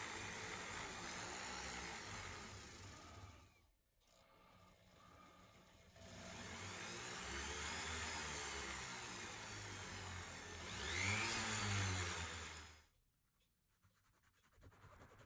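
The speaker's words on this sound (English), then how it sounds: "My Fordham rotary tool is going to make quick work of this polishing" Fordham rotary tool buffing and polishing a Hot Wheels Redline die-cast car, a steady whining drone that runs in long loud stretches, broken by two brief pauses, close and with no talking.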